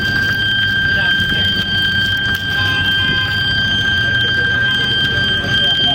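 A bank panic alarm sounds as a steady, piercing electronic tone that holds unbroken for the full six seconds, loud and close over a rumbling room background.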